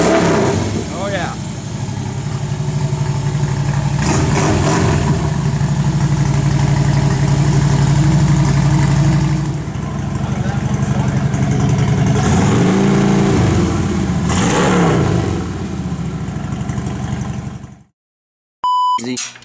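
A Harley-Davidson motorcycle fitted with a K&N Aircharger intake roars loud and close, its engine holding a heavy rumble with repeated revving swells before cutting off abruptly near the end.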